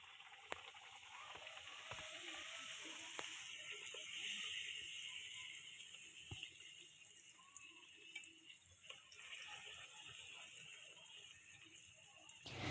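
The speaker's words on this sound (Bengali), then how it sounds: "রাতে গরম গরম লুচিটা ভেজে নিচ্ছি" Luchi flatbread fries in a pan of hot oil at night, giving a quiet, steady sizzle that keeps going for the whole stretch with occasional soft clinks.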